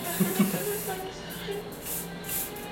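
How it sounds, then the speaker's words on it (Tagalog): A facial spray mist hisses close by at a wedding gathering, a soft steady spray rush with chatter and voices in the background. "Sige, spray mo pa ako sa mukha."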